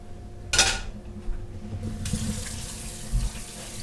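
Tap water running into a kitchen sink while noodles for Korean cold noodles are rinsed, a close splashing gush with a sharp burst early on and light clatter, no talk.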